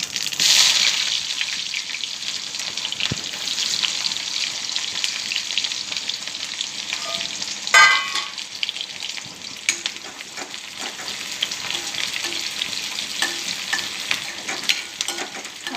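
Mustard seeds and onion fry in oil in a pan for kande pohe, with a loud bright sizzle that settles into a steady crackle, punctuated by a few utensil knocks and stirring scrapes.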